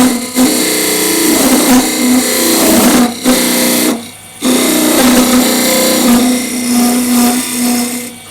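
Loud, steady power sanding of a wooden duck call, a continuous buzzing whir with two short pauses as the tool lifts off, close and alone.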